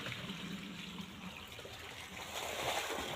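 Water mixed with jivamrut trickles and gurgles softly into the soil around a plant's base, a faint continuous flow heard alone, swelling slightly near the end.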